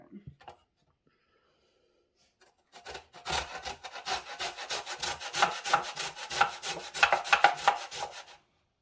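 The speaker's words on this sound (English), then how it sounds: "So we're going to grate the lemon." A lemon rubbed against a grater to take off the zest, giving a rapid run of close, rasping strokes for about five seconds after a short quiet start.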